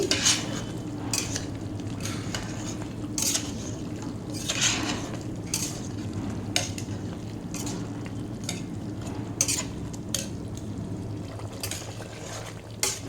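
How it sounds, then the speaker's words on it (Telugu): Chili powder is stirred into a spicy chicken curry in a pan, producing steady spoon scrapes and light clinks over a faint background sizzle, with no voices. "అలాగే ఒక నాలుగు టీ స్పూన్ల కారం వేస్తున్నాను నేను వేసుకుని బాగా కలుపుకోవాలి"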